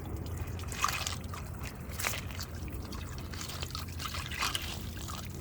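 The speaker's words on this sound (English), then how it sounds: "there's something bubbling up right here." Liquid bubbling up from the ground outside a community gate, soft irregular gurgles and trickles over a low background rumble.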